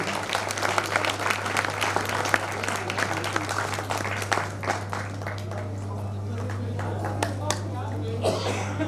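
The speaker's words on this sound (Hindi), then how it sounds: "इन बच्चियों के लिए जरा जोरदार तालियां आप लोग बजा दीजिए।" Audience applause for a group of girls after their performance at a Swami Vivekananda Jayanti gathering, sustained clapping from a crowd over a steady electrical hum, with some voices mixed in.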